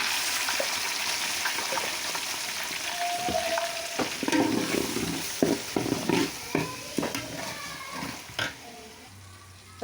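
Curry leaves crackle and sizzle in hot oil in a pan for a green peas curry, with bursts of spattering popping over a steady frying hiss, close and loud.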